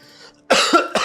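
Two sharp, close coughs break out after a faint murmur, each a short harsh burst, the second following a brief gap.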